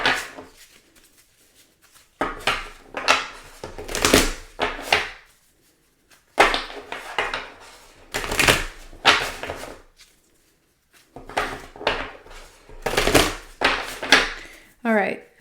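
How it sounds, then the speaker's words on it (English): Bursts of crisp, rustling tarot card shuffling come in several rapid runs separated by short pauses, close and fairly loud, with no talking. "I'm going to actually just shuffle for a second here to clear the deck"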